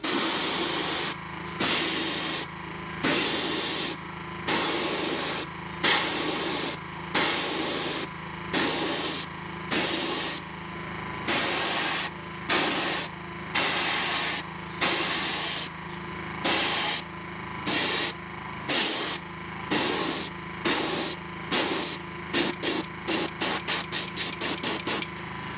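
Spray gun hissing paint onto a crawfish-pattern fishing lure, in repeated short bursts of steady airy spray separated by brief pauses, growing quicker toward the end, close and loud with no talking.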